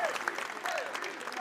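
A crowd at a DreamHack Open Tours Counter-Strike semi-final between G2 and Valiance applauds and cheers steadily, with a commentator talking loudly over the noise.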